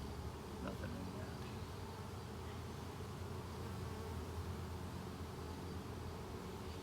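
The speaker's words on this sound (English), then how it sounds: "Another good frame of brood." A dense, continuous buzz of many honeybees around hive frames during a hive inspection, close by, steady and loud throughout with no pauses.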